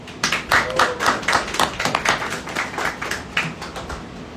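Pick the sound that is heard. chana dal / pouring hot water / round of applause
round of applause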